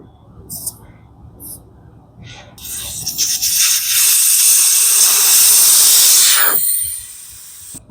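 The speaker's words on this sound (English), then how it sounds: "So we're just going to take this valve stem out." Air rushing out of a Hustler zero-turn mower tire after the valve stem core is pulled, a loud steady hiss lasting several seconds before tapering off, preceded by a few small clicks and faint talk.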